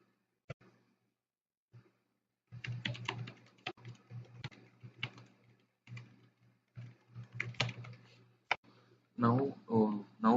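Keys clatter on a computer keyboard in irregular bursts of close clicks while messages are entered in a client-server networking lab, with a soft sigh or breath and a brief voice near the end.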